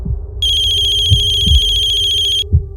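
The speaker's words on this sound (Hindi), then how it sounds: "मम्मी का फोन।" A telephone rings with a single long electronic trill lasting about two seconds, loud and close, with faint thumps and background noise beneath it.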